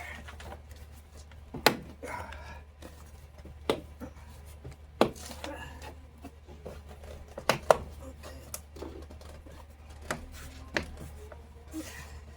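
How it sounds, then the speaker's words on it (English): Several sharp plastic clicks and snaps at uneven intervals, close by, amid quieter handling and rustling noises, as door panel clips snap back into place on a 2009 Nissan Xterra. "you can actually hear them popping when it's in place"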